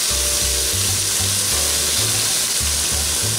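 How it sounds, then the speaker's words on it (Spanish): Broth pours into a pot of tomato soup with a loud, continuous rushing and sizzling splash, while a steady, rhythmic low beat pulses underneath throughout. "Ahora mismo vamos a echar el caldo"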